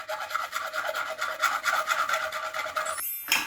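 A 2-inch PVC pipe cut by hand with a saw: steady, rapid rasping strokes close up, continuing without pause until a brief break near the end.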